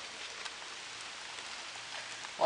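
Rain falling in a steady, soft hiss of drops, fairly faint and even throughout the short stretch, with a brief louder bump at the very end.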